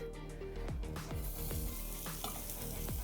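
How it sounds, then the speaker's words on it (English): Thick-cut diced bacon sizzles and renders in a pan over low heat, a steady close frying hiss with a few scraping stir strokes cutting through at regular intervals. "I've got the pan down on low because I don't want to burn the bacon"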